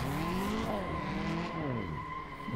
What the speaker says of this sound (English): Give it a cheeky handbrake.